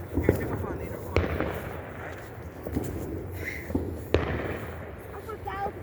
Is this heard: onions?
no